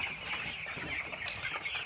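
A crowded flock of broiler chickens on a poultry farm keeps up a dense, steady murmur of clucking, soft and somewhat distant, with no voices.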